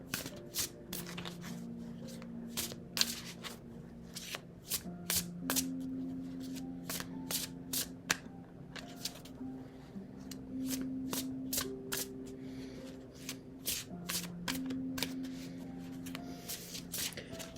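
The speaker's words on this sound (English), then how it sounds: "Let me just shuffle just a little bit." A deck of tarot cards is shuffled steadily at close range, with crisp repeated card snaps and slides in an uneven rhythm over a low, steady background hum.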